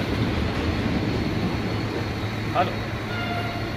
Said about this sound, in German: ich stehe jetzt hier und warte auf den Zug